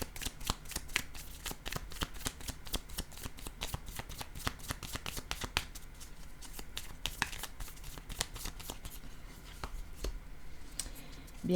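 Tarot cards are shuffled in a long run of quick, crisp riffling slaps and flicks, close and steady at a moderate level with no voices.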